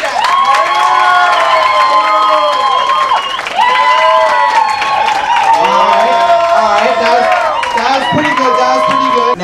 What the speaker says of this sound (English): When I step in front of the painting, you guys got to cheer for it if you really like it.